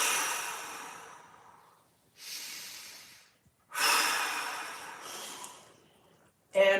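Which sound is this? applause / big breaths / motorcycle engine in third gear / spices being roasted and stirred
big breaths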